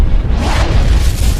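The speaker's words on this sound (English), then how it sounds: "but maybe a supernova explosion" A rumbling supernova explosion sound effect, a loud sustained low boom that swells and roars steadily with a hissing wash on top, with no voices.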